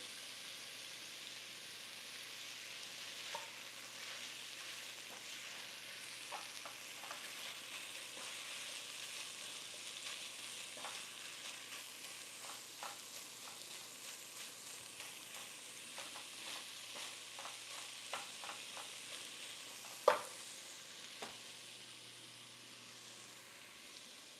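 Texas sausage links browning in a pan, a soft, steady sizzle with scattered pops and crackles, one sharper spit near the end, heard alone without talking.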